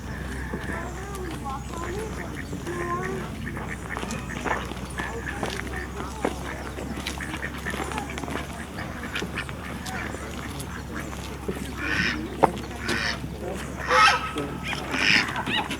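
Ducks and geese at Goldwater Lake in Prescott, Arizona, quacking and honking on and off amid footsteps and outdoor ambience while people talk throughout.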